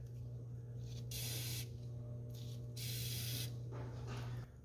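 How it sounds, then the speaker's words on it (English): Fluid Film rust-protection spray applied inside a truck, two or three sustained aerosol hisses separated by pauses, near and steady above a continuous low droning hum. "So taking the time to spray in here will give you a ton more life out of your truck."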